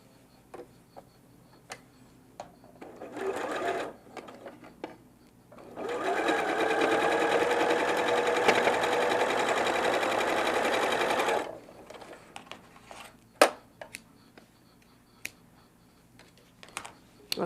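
A sewing machine pieces quilt fabric in two runs, a short burst and then a longer steady whir of about six seconds, with light clicks and taps before and after.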